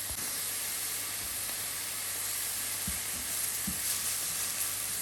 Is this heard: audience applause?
no